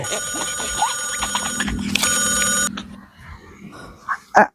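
A phone rings loudly with a bright electronic trilling tone for a few seconds, then cuts off, leaving faint background sounds.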